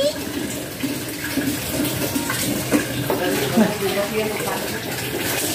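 Water running while a dog gets bathed, a steady close splashing gush that continues throughout, with voices talking over it.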